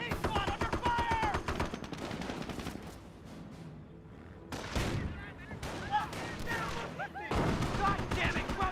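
Gunfire from a World War II battle in Company of Heroes: bursts of machine-gun and rifle fire and a few heavier booms, loud and mixed with voices shouting in the game, with a quieter gap in the middle.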